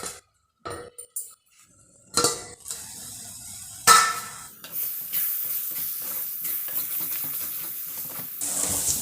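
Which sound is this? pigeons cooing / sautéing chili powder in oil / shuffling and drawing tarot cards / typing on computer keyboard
sautéing chili powder in oil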